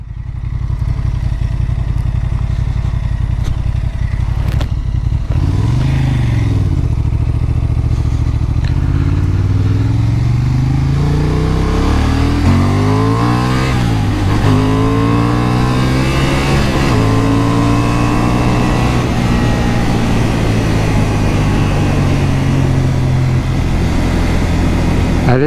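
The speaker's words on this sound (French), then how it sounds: "Bon, le pot il fait toujours un aussi joli bruit." A 2023 Honda Hornet 750 (A2 version) motorcycle exhaust blips and revs repeatedly, pitch sweeping up and down in loud close bursts before settling into a rising, sustained howl.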